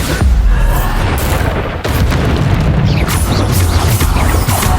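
Bombarda spell explosions in the video game Hogwarts Legacy, loud booming blasts and crashes over a continuous rumbling battle din, with a brief dip before another burst of impacts.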